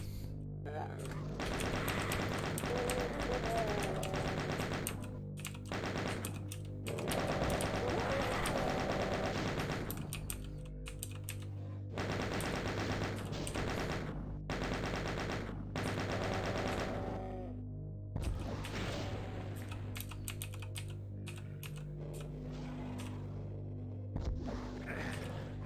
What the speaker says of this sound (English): I think I got hit by a shotgun guy across the way